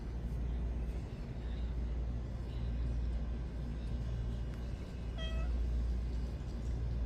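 A cat gives a single short meow midway through, faint over a constant low outdoor rumble of traffic.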